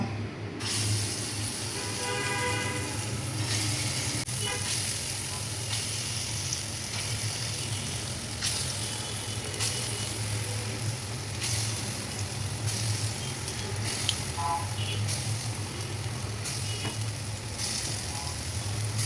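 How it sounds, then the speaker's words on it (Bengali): Vegetable fritters (bora) fry in oil in a pan for a vegetarian dish, giving a continuous, even hiss and sizzle with a few faint stirring sounds and no talking. "এখন আমি বাকি বড়াটুকু ওইভাবে ভাজা নিব"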